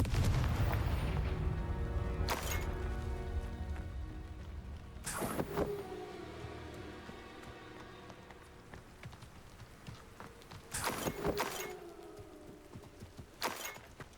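Spell blasts in Hogwarts Legacy gameplay, several sharp bursts with ringing magical tails over a low rumbling game soundtrack, moderately loud.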